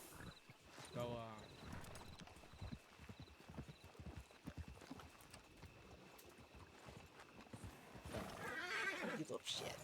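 In the video game Red Dead Redemption roleplay, hooves clip-clop steadily while a horse lets out a whinny early on and another near the end, with people talking throughout.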